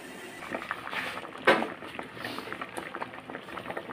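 Water boiling in a pot on the stove for cooking. The bubbling is a soft, steady burble at moderate level, with one brief louder splash or clatter partway through and no voices.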